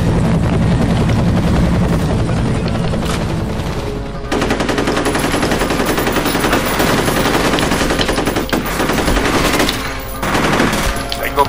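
Inside the shooter game F.E.A.R., a helicopter's steady rotor roar runs continuously with bursts of machine gun fire mixed in, loud and dense throughout.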